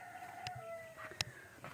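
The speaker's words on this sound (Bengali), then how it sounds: "আশেপাশের বাড়ি থেকে মোরগ ডাকছে" A rooster crows faintly in the distance from a nearby village house at dawn, a thin drawn-out call over quiet morning ambience with a couple of soft knocks.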